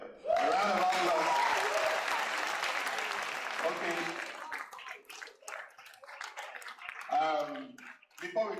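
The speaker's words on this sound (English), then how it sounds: "A round of applause." Business and policy summit audience bursts into a round of applause, loud dense clapping at first that thins out and fades, giving way to talk and scattered sounds near the end.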